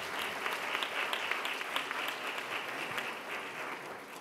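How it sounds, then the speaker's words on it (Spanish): Applause from an audience at a school book presentation, steady and dense throughout, moderately distant with no voices over it. "Fuerte aplauso para Marta."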